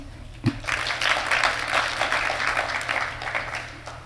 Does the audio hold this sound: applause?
yes